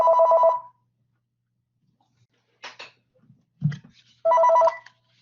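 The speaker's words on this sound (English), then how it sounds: "I just mute the phone call." A phone ringing in short electronic bursts, one at the start and one near the end, separated by quiet gaps with a few faint clicks and knocks.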